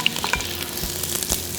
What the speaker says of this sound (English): as soon as it's melted, we're gonna add our roughed chop onion